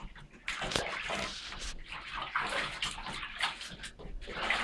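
Water splashes and sloshes in a baby's bath, steady and close with irregular bursts of splashing throughout.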